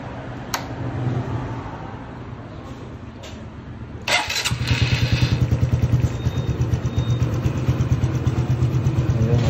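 Honda RS125 motorcycle being started after a clutch housing replacement: a faint idle-like hum and a few clicks, then a loud kick into a steady, rapid, buzzing two-stroke idle that carries on close and strong, with no talk.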